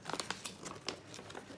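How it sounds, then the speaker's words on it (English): A fold-out paper insert from a Magicians playing card deck is unfolded, giving a quick series of soft, close crinkles and rustles, fairly quiet and with no speech. "There is also a fold-out paper that came with it"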